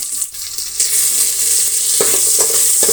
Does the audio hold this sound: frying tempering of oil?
yes